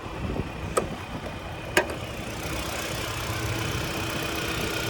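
A 2025 Hyundai Sonata SEL's Smart Stream 2.5 liter 4-cylinder engine idles quietly with a low, steady hum, punctuated by two sharp clicks early on; no one speaks.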